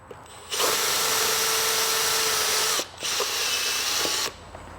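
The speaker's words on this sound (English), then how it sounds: "It just drilled all the way out." Power drill boring out a rivet on a Vespa scooter during a tear-down, two sustained bursts of steady whining drilling close by, separated by a brief pause, with no talk.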